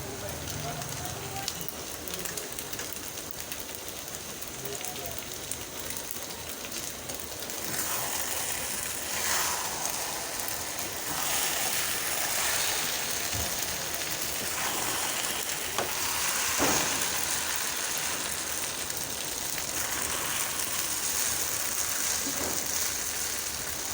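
Two eggs sizzle and crackle in a hot pan for quick egg noodles, a steady hiss with scattered pops that grows fuller partway through, with faint talk at times.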